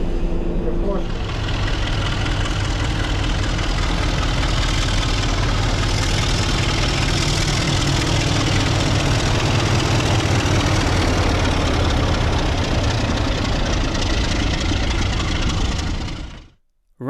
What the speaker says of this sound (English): Right, so enough of that diesel thrash